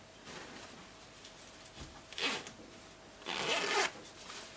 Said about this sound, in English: So I'll zip it back in there.